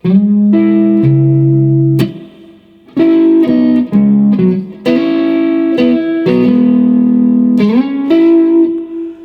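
An electric guitar plays a sustained melody line from a song in standard tuning, with slides between notes, loud and close with a touch of reverb and no talking.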